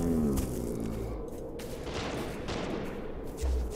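Gunfire in the video game The Incredible Adventures of Van Helsing 3, a burst of rapid shots and impacts up front followed by softer crackling combat noise and a low thump near the end.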